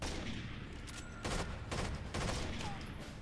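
Gunfire in a video game, several loud bursts of shots cracking over a steady background, close and punchy, with faint talk underneath.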